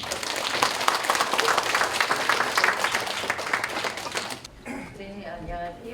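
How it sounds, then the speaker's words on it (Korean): An audience at a Korean fashion and garment industry forum claps warmly for an incoming moderator, a dense sustained applause that cuts off abruptly, followed by a person speaking. "큰 박수 부탁드립니다."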